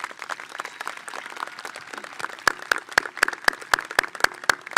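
Applause at a 2021 high school graduation ceremony, scattered claps from a modest crowd that settle into a sharp, steady rhythmic clapping of a few close hands, moderately loud with no voices.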